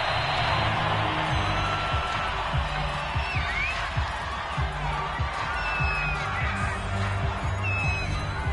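Home crowd in a football video game roars in a steady, dense wash of cheering and whoops that holds loud and continuous throughout, with no break or fade.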